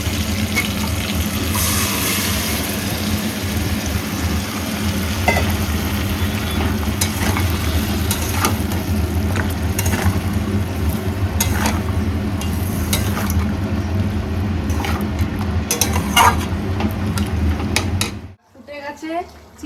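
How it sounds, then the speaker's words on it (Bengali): Marinated chicken frying with browned onions and whole spices in a pan, a loud continuous sizzle with stirring clatter throughout, then cutting off abruptly near the end. "চিকেন এখানে কষতে দিয়ে দিয়েছি"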